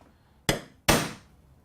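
A ball peen hammer strikes a centre punch to mark a spot for drilling, giving two sharp, solid knocks close up, about half a second apart, each ringing briefly before fading into quiet.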